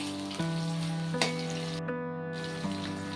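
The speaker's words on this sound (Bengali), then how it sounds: "আলুগুলো একটু নাড়াচাড়া করে নিই।" Potatoes frying in a pan, stirred a few times, with soft sizzling and a handful of distinct scraping knocks over steady musical tones.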